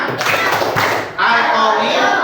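Fifth-grade class doing a rhythmic clapping chant for the Asmaul Husna: sharp claps and taps mixed with children's voices, followed by sustained group chanting.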